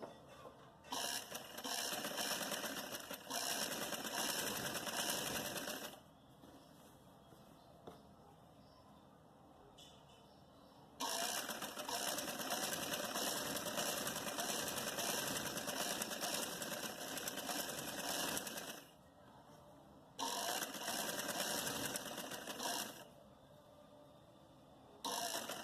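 Electric sewing machine stitching a frilled trouser, running in long steady bursts with brief quiet pauses between seams, close and continuous mechanical whir.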